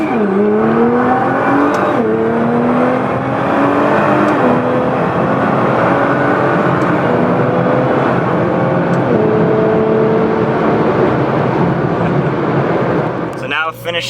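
A Nissan GT-R accelerates hard down an airport runway. Its engine note climbs steeply through several gears, with brief dips at each shift, loud and close throughout, and a voice is faintly audible beneath it.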